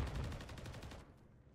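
Rapid automatic fire from an MCW assault rifle in a video game, a tight string of quick, evenly spaced shots that rattle for about a second and then cut off, fairly quiet overall.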